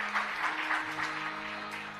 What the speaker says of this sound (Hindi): बहुत तालियों का द्वारा आदर और धन्यवाद करते हैं